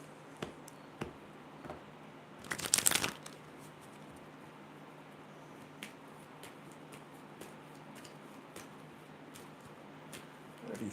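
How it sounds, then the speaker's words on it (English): Tarot cards are shuffled in one brief riffling burst, followed by scattered soft taps and clicks in a quiet room. "Let's do a quick shuffle."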